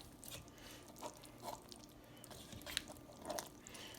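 A spoon stirring smothered oxtails in a pot, giving faint wet squishes and soft scraping clicks at irregular intervals, quiet and close, with no talking.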